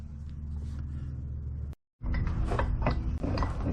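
An adjustable nut driver turning a large thread tap into metal on a log splitter upgrade, giving a steady grinding, creaking mechanical churn, broken by a brief silent pause before the ratcheting resumes close up.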